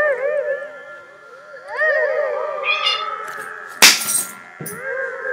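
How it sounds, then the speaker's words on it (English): Two cats fight indoors, trading loud wavering yowls and growls that rise and fall over several seconds, then break into sharp hissing spits near the end. "That was my cats fighting."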